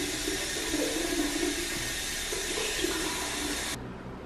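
Running water pours steadily from a tap to wash a wound, a constant close hiss that cuts off abruptly near the end.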